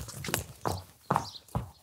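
Horse hooves stepping while being led, four distinct clip-clop footfalls spaced about half a second apart, close and fairly loud with no talk over them.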